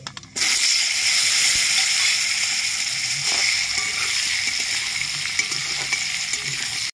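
Cut potatoes hit hot oil with five-spice tempering and a dried red chili, giving a loud, steady sizzle that runs unbroken for several seconds, with faint clinks of utensils underneath.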